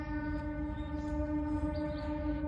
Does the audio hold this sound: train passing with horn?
yes